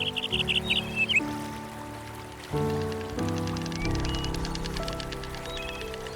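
Water birds call through the morning mist over the Amazon, a few clear whistled and chirping notes scattered over a layered, droning background of insects and distant calls, moderately loud and unbroken throughout.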